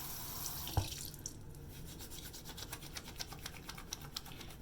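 Water from a washroom tap runs onto a bar of rebatched soap: a steady hiss in the first second, then a wet rubbing and soft scraping that carries on at close range.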